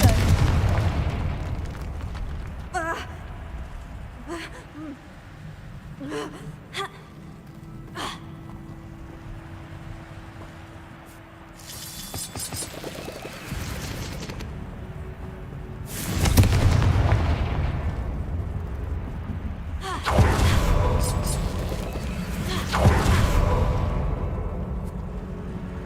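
Confringo blasting spells exploding in Hogwarts Legacy: a series of sharp hits early on, then several heavy, loud booms with long rumbling tails in the second half.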